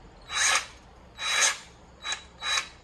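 A Hercules cordless grease gun runs in four short whirring bursts, two longer then two briefer, close and fairly loud with quiet gaps between.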